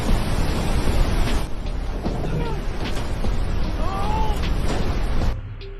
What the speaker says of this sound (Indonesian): Lara terbawa arus sungai yang sangat deras